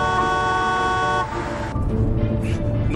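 A car on the road sounds a long, loud sustained horn blast up close, which then cuts off to engine rumble and road noise with brief lighter tones afterward.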